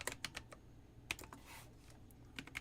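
A computer keyboard being typed on, heard as scattered quick key clicks in short irregular bursts with quiet gaps between them, close and fairly faint.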